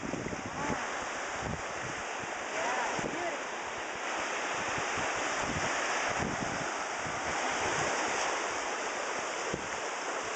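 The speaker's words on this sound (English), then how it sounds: "Wow, because there's lots of waves." Small waves lap the rocky shore of Georgian Bay in a continuous soft wash of surf, mixed with microphone wind buffeting, fairly faint and steady throughout without clear speech.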